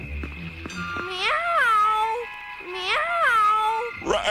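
In a classic cartoon, someone imitates a cat with two drawn-out, wavering meows, loud and close, each rising then sliding down, with a short pause between.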